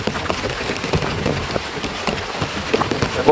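Rain falls steadily on crops in a field, a dense, close patter of drops with irregular louder taps, continuous and fairly loud with no voices.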